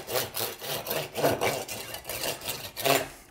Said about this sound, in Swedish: vi försöker såga liksom isär den här på mitten